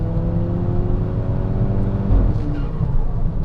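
A modified Mk5 VW GTI pulls at full throttle from about 2,500 rpm, its engine drone held steady and loud with rising harmonic tones from inside the car.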